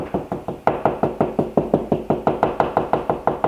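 Steady, rhythmic knuckle knocks on a hollow wall, about five per second, close and crisp, with no voices.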